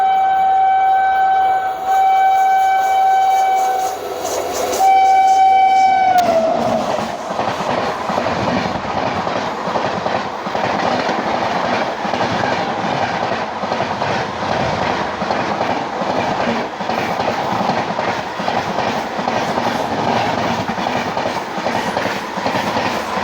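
A passenger train on the Katihar to Tatanagar route opens with sustained horn-like tones for several seconds, then settles into a loud, steady rumbling clatter of wheels on rails with no voices.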